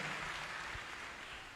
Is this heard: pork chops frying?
no